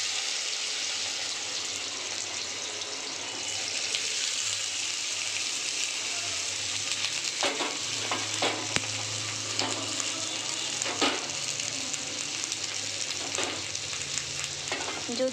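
Mixed vegetables of radish, long beans, potato, flat beans and cauliflower sizzle steadily in a hot pan, a continuous loud hiss with occasional stirring clatters toward the end.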